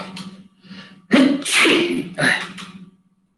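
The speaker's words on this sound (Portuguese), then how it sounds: "Peraí que eu vou espirrar." A person sneezes during a physics lesson on gravitation, with a short sniffing lead-in followed by one loud, sharp burst and a second trailing gasp, then silence.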